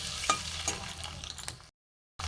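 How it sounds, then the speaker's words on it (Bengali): Peeled boiled eggs fry in hot oil until browned, giving a close sizzle with stirring scrapes and light clinks, then a brief silence before the sizzle returns. "ডিমগুলো ভাজা হয়ে গেছে লাল করে।"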